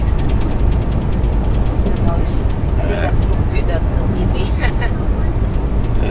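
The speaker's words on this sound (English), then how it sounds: "We got all kinds of noises inside this truck." Cabin noise inside a truck heading down a mountain toward Los Angeles, a constant loud low road and engine roar with rattles and clicks throughout, while people chat.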